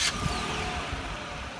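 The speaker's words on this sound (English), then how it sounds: "to start the engine remotely, you first have to press the lock button and press the engine start button twice to start" A 2015 Ford Explorer Limited engine starts by remote start, a brief burst followed by a steady, close idle rumble with a faint high whine.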